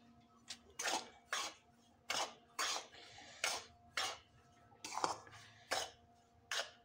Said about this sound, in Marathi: त्यामध्ये आपण पीठ भाजून घेऊ व्यवस्थित.